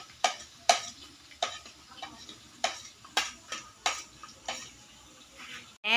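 Chorizo and garlic sautéing in a pan, a faint sizzle broken by a series of sharp, evenly spaced spatula scrapes and taps, close and fairly loud, with no talking.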